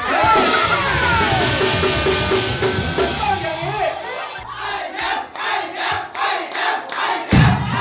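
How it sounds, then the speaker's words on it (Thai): A New Year party crowd cheers and shouts loudly, first a sustained roar of voices and then a series of rhythmic, chant-like bursts of cheering, all close and energetic. "พี่แอมครับเชียร์กันจังเลย"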